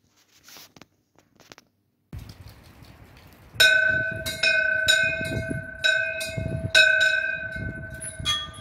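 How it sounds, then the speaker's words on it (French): An old-fashioned handbell at a school rings for the end of recess, a rapid series of bright metallic clangs struck repeatedly and loudly after a few soft handling noises. "c'est par cette cloche à l'ancienne que nous signalons aux élèves que la fin de la récréation a sonné"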